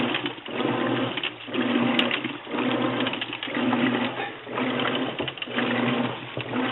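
A Whirlpool washing machine runs up close, churning with a steady rhythmic swish and mechanical thump that swells and eases about every second.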